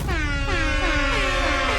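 A loud, sustained air horn in Minecraft blares continuously with a brassy, wavering tone, alone and close up.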